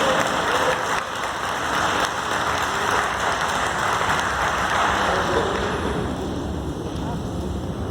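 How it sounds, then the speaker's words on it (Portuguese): Congregation applauding at a prophetic church gathering, a broad, steady wash of clapping that holds at full level for the whole stretch without a break. "Vamos aplaudir o Senhor"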